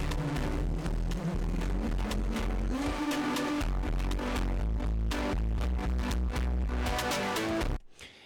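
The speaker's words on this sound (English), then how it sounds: "the pumping and the compressed sound that the distortion is creating" A dense electronic music track fed through a distortion bus, swelling and pumping under heavy compression with a steady low end and a busy synth layer, loud throughout before cutting off abruptly at the end.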